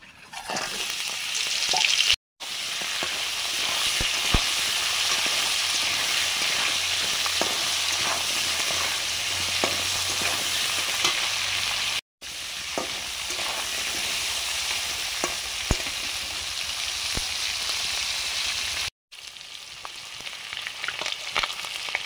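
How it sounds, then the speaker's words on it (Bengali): Loud, steady sizzling of crabs coated in salt and turmeric frying in hot oil, continuing for a long stretch with a few brief cuts of silence. "কাঁকড়াগুলো নুন হলুদ মাখিয়ে নিয়েছি, ভাজবো।"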